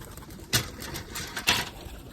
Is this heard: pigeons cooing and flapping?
yes